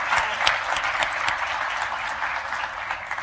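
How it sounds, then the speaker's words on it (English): An audience breaks into a short burst of lively clapping in a room during a food literacy talk, dense and steady with a few sharper claps, no voices. "Can we give him a round of applause?"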